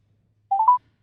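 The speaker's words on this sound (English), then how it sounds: "Okay, let me make a call." Short burst of touch-tone dialing on an Android phone, a quick run of three or four clear beeps lasting about a third of a second, close and fairly loud over a near-silent background.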